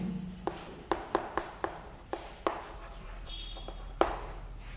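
A teacher writes a maths solution on a board in a class 12 lesson, producing a series of sharp close taps and strokes in an uneven rhythm, about ten of them, with no clear talk.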